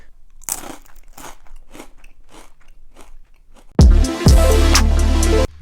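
Crisp, loud crunching of a cheese chipstick-style Japanese snack, close-up bites and chewing that start as a series of sharp snaps, then build into a dense, heavy crunch near the end.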